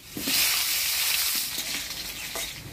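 Potatoes dropped into hot oil with whole cumin seeds in a village-style kitchen, a loud continuous bright sizzle with a few faint stirring knocks underneath, no voices.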